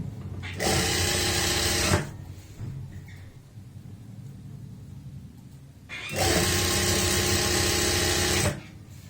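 A sewing machine joins the shoulder seams of a lined kameez, running in two loud close bursts of a second or two each, separated by a quieter stretch.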